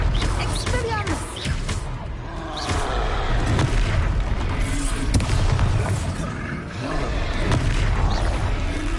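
Spell combat in Hogwarts Legacy with the Expelliarmus disarming spell, a series of booming magical impacts and crashes amid dense, continuous battle noise, near and loud throughout.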